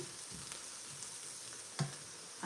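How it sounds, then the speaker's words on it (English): Scallops sauté in a thin film of leftover oil, giving a soft, even sizzling hiss that runs throughout, with one small clink near the end. "let them get a good saute on them"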